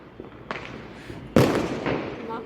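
Firecrackers crack during Karva Chauth festivities, a lighter pop followed by one loud, close bang that rings out against background murmur.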